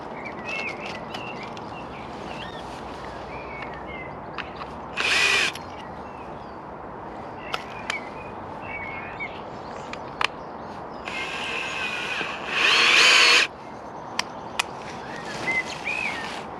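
Power drill driving screws into wood battens while fitting polytunnel covers outdoors, in several short bursts of whirring amid steady background noise and occasional clicks, with birds faintly audible.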